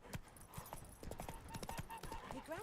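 Hooves of Geralt's horse Roach in The Witcher 3, a steady clip-clop of distinct thuds at a walking rhythm, fairly close, with a faint snort and a soft voice nearby.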